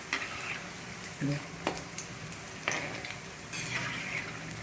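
Boondi being roasted in a pan for mix namkeen, a soft steady sizzle with scattered clicks and scrapes of stirring, heard close but fairly quiet.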